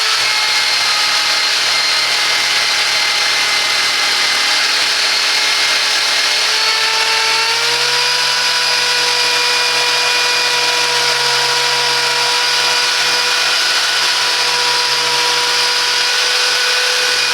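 Parkside PSTD 800 E4 jigsaw with an 800 watt motor running loud and continuous, a steady high motor whine whose pitch drops slightly partway through, with no pauses.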